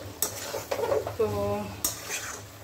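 A spoon stirs potato and pointed gourd curry, with garam masala and ghee added, in a pan. There are a few sharp metallic scrapes and clinks over a faint sizzle, close and fairly quiet.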